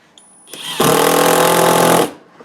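A power drill drives a screw into plywood: a short spin-up, then a steady loud whirring grind for about a second, then it stops, heard alone and close.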